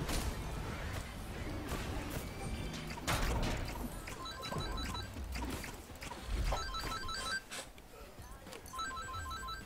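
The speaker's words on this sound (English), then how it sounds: "Sorry, my phone, guys." A mobile phone rings with a repeating electronic ringtone pattern, faint under clattery background noise and activity, the tone bursts recurring several times.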